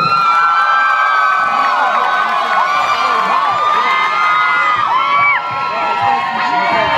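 An audience at Lincoln Center cheers loudly for a singing group, a continuous crowd roar with whoops and high-pitched shouts rather than distinct clapping.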